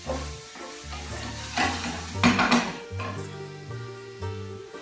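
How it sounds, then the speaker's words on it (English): Eggplant fries in oil in a pan, a steady low sizzle broken by a few scraping stirs and a brief louder clatter of the spoon against the pan near the middle. "want to cook the eggplant until you start to see it become a little translucent"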